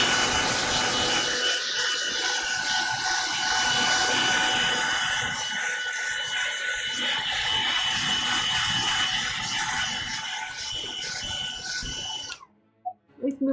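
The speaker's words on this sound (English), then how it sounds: "Use a hairdryer real quick." A handheld hairdryer blows over wet paint on a painting, a loud, steady, close whooshing roar that runs for most of the span before cutting off abruptly near the end.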